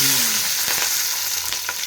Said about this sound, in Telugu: ఆవాలు జీలకర్ర చిట్టపట లాడుతుంది